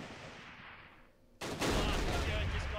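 Bren gun rifle group opening fire in the Close Combat Arnhem video game: a quiet lead-in, then a sudden, loud burst of dense, sustained gunfire that keeps rattling to the end.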